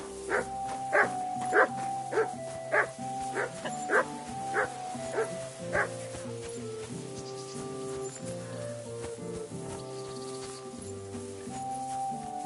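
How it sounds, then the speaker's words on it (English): A dog barks in a regular series of about nine loud, evenly spaced barks, then stops, leaving a sustained musical background that continues alone. "No one wants to hear your barking."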